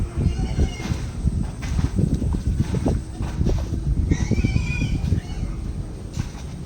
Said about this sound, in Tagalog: Maririnig ko yung iyak ng biik